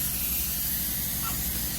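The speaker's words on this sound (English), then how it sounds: "I like using this spray adhesive here" Spray adhesive hisses steadily from an aerosol can while it is applied between sheetrock panels at a drywall joint on a water-damaged ceiling, a continuous close hiss with no pauses.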